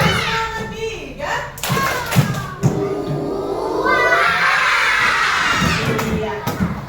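Children in a classroom do a rhythmic clapping chant, with several bursts of claps and thumps under a teacher's voice and the children's chanting voices.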